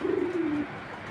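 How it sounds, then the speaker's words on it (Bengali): A black checker pigeon gives a single low, drawn-out coo up close, lasting about half a second before fading to quiet room noise. "ভাই একটা ব্ল্যাক চেকার কবুতর দেখাচ্ছি"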